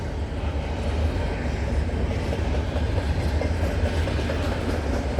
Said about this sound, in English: I definitely know this train is going to Brampton or Mall Terminal for real.